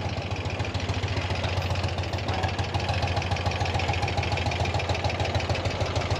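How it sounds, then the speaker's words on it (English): A carbureted 1000cc BMW R100 motorcycle from the 90s idles while warming up, a steady, close, throbbing engine rhythm with a faint knocking texture and no talking. "Now it's carbureted, so it's carbureted bike from the 90s, so it's gonna have to warm up"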